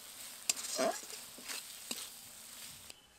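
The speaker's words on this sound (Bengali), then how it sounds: "আলুগুলো দিয়ে আবার কিছুক্ষণ মশলার সাথে ভালো করে নেড়ে নেব" Soft sizzling of potatoes stirred into frying spice paste in a pan, with a few clattering knocks and scrapes of a spoon, fairly quiet and close.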